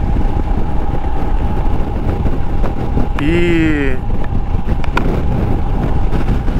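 A Royal Enfield Himalayan motorcycle riding on a highway: a loud, steady engine drone with constant wind rush, and a brief voice breaking in partway through.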